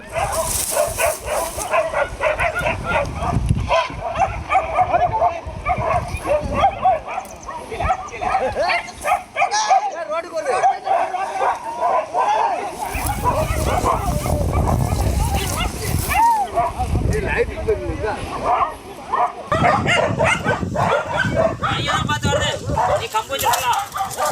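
Pet and street dogs bark and yelp repeatedly while chasing a wild elephant back toward the forest, loud and chaotic, with a voice talking over much of it.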